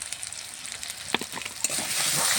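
Ginger and cumin paste with chilli and turmeric powder and salt fries in a pan, a bright crackling sizzle broken by a few quick stirring scrapes, swelling louder and steadier toward the end.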